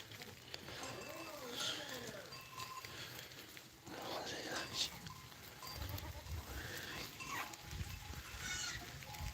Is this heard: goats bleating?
yes